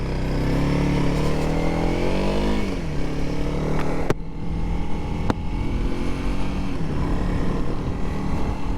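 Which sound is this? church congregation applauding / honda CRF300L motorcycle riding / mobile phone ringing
honda CRF300L motorcycle riding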